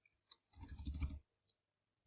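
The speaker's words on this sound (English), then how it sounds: "let's just type in best laptop, for example," Quick typing on a computer keyboard: a single key click, then a short rapid burst of clacking, then one more isolated click, all close and clear against silence.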